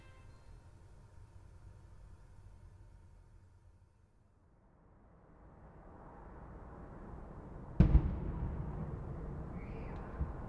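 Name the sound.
bomb explosions in an audio drama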